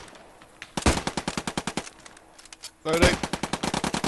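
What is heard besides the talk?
machine gun suppressing fire during section attack training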